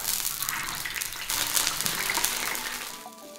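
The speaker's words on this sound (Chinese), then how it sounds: "现在油炸花生" Washed and drained peanuts deep-fry in hot oil with a loud, dense, continuous crackling sizzle close by that eases off slightly at the end.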